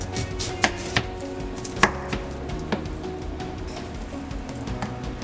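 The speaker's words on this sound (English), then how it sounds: "Then I'm going to cut the onion into half. And then I'm going to start cutting it into slices." A knife cuts an onion in half and then into slices on a board, giving a few distinct sharp chops early on and then softer, irregular cutting taps over a low steady background.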